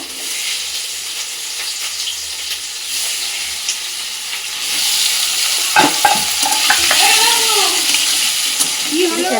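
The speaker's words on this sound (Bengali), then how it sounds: "এদিকে ক্যাপসিকামটা একটু হালকা ভাজা করে নেবো" Steady sizzle of capsicum frying in a pan, growing louder partway through, with faint scraping and a few brief tonal sounds near the end.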